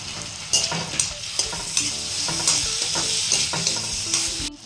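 Chopped onions and tomatoes frying in oil in a kadai, a continuous close sizzle with a spoon stirring and knocking against the pan in a steady rhythm, no talking.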